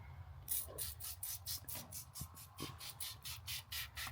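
Rapid, steady series of short hissing sprays, about a dozen quick squirts in a row of vinyl protectant from a trigger spray bottle, close and fairly loud.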